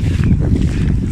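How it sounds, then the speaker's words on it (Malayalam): Strong wind blows across the microphone outdoors by open fields and a banana grove, a loud, steady low rumble throughout the short moment. "നല്ല കാറ്റുണ്ട്,"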